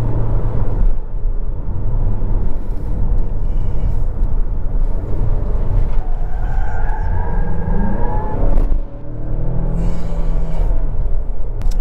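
A 2022 Mazda CX-5 small SUV is driven briskly, with engine drone and road and tyre roar heard from inside, rising and falling with throttle and a brief lull near the end.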